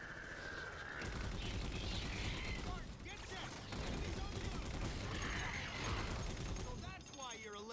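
Sustained turret gunfire rattles in Halo MCC, loud dense bursts of heavy automatic fire that continue across several seconds, with brief pauses and metallic mechanical clatter between volleys.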